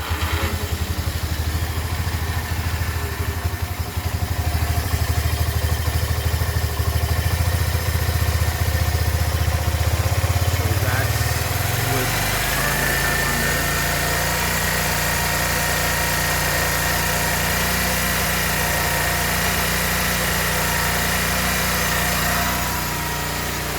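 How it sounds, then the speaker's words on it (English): A 1977 Kawasaki 200 motorcycle engine, just back from carburetor repair, starts up and runs alone, its idle climbing steadily into a faster, smoother steady drone that stays close and loud throughout. "The idle increases and increases."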